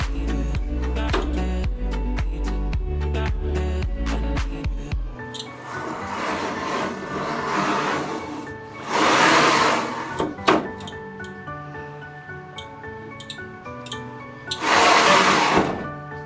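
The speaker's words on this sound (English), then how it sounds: "I'm still printing the tensioners for the belt" A delta 3D printer printing belt tensioner parts, with rapid stepper-motor chatter and buzzing tones, a pulsing low rhythm at first, then whirring moves with two louder noisy bursts, close and steady.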